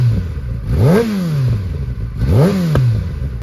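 A Kawasaki Ninja ZX-10R motorcycle engine revs twice, each time a sharp rise in pitch followed by a falling settle back toward idle, loud and close.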